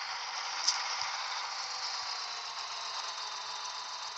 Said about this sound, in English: Let's test the tractor to its limits.